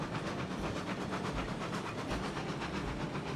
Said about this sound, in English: listen to this engine chug